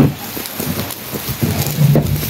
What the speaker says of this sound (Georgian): აქ წვიმა არ გაწუხებს ჩამოფარებულია და არ გაწვიმს